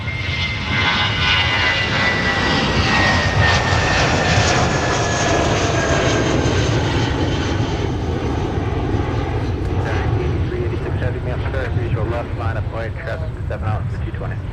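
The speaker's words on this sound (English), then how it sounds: "we might capture the departure of Delta 258 Heavy after all" A Delta heavy jet airliner departing Minneapolis–St. Paul airport, a loud, sustained engine roar that stays steady throughout, with spoken voices underneath.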